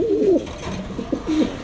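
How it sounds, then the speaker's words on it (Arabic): Domestic pigeons coo close by in a loft, giving soft, low, throaty calls in a few rounded bursts, one near the start and another toward the end, with no talking. "ده الحمام اللي انا بقول لك عليه"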